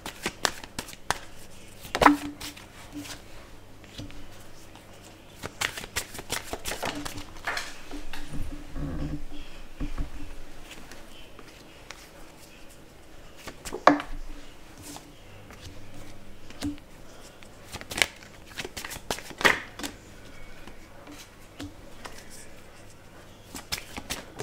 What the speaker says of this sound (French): on va tirer les autres cartes ici pour les poissons